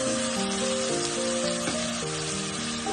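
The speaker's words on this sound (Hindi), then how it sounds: "थोड़ा सा 1 मिनट टमाटर को भूनेंगे" Chopped tomatoes frying with onions in a pan for piyaz tamatar chutney, a steady close hiss and sizzle running throughout with a faint music-like tonal hum underneath, no talking.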